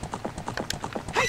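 A horse's hooves clip-clop in a steady, quick trot in The Legend of Zelda: Ocarina of Time, each hoof strike close and distinct, with no voices over it.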